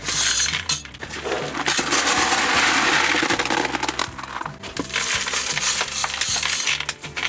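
Scoria gravel poured and shoveled around a potted hot pepper plant, a loud, close crunching and rattling of stones with gritty clinks, running in bursts with short pauses.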